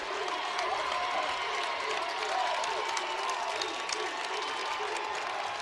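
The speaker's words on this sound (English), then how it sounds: "Crowd coming alive here for Mason County." Crowd noise swells at a high school basketball championship game in a gym, a steady roar of cheering and scattered clapping heard from a distance.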